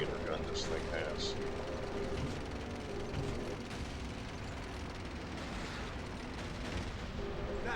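A tank's 75mm main gun firing in the WWII shooter Call of Duty: Finest Hour, set in a dense, continuous battle din of engine rumble and gunfire with several sharp booms, while a voice speaks over it.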